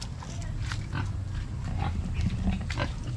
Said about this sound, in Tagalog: Baboy ramo.